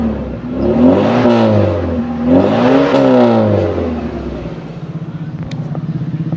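A 1997 Suzuki Sidekick's engine revs up twice, rising and falling in pitch, then settles into a steady, smooth idle, loud and close.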